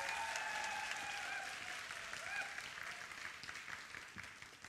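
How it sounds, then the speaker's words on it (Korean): A church youth-service congregation claps together, steady dense applause that slowly tapers, with a sustained tone and a few voices underneath. "우리 다시 한번 강서구가 큰 박수 부탁드립니다."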